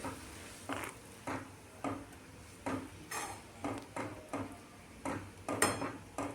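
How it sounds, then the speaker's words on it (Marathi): A spoon stirs a boiling guar bean (cluster bean) curry in a pot, making about ten regular scraping strokes against the metal, evenly spaced and fairly close. "तर एकदा आपण भाजीला मिक्स करूयात."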